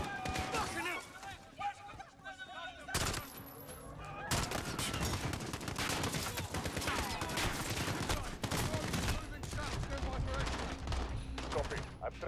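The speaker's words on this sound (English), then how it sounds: "The gunshots, of course." Gunfire erupts in a Call of Duty: Modern Warfare street battle, with sharp bursts and rapid automatic fire up close, mixed with shouted voices and other combat noise throughout.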